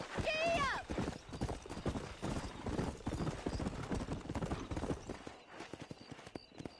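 Horse hooves clip-clop steadily while riding in Red Dead Redemption, a quick regular gallop rhythm close by, with a short whinny at the start and a voice speaking over the hoofbeats.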